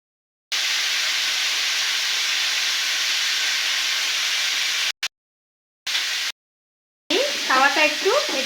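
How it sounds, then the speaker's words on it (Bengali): Pumpkin rose pitha fry in hot mustard oil on a pan with a loud, steady sizzle and hiss, broken by abrupt silent gaps; a voice speaks briefly over the frying at the end. "দেখুন কত সুন্দর আমার গোলাপ পিঠেগুলো ভাজা হচ্ছে।"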